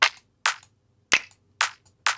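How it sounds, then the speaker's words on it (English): Five crisp, dry clap samples play in a house beat built in Studio One. They fall in a loose, evenly punchy pattern with silence in between and nothing else under them. "We'll get the snare involved for the claps."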